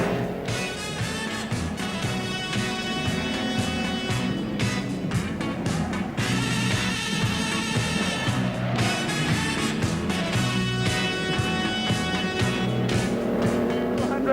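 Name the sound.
1960s Formula One race cars racing at Monaco Grand Prix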